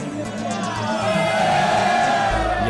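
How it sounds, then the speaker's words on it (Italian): A crowd cheers and whoops at the award ceremony of the 2003 Rainforest Challenge off-road event, a steady loud wash of voices close by with no clear clapping. "Gli applausi e gli onori dei presenti sottolineano il desiderio e l'augurio di riprovarci nell'edizione 2004."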